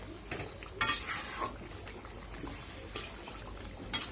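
A spoon stirs meat bhuna in a pot, giving soft scraping and clinking strokes at irregular intervals over a low sizzle, fairly quiet and close, with no talking.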